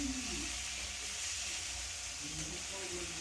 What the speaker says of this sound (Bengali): মাছটাকে ভাজতে বসিয়ে দিলাম